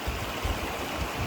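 A stream runs beside a bridge at a trailside campsite, a steady close rush of water with no voices.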